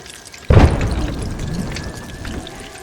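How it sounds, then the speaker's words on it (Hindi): A sudden deep boom bursts out from the Mount Toba supervolcano eruption, followed by a long rumbling roar that slowly fades, like a massive explosion heard alone. "अचानक दुनिया धमाके से फट पड़ी। एक कान फाड़ देने वाली दहाड़।"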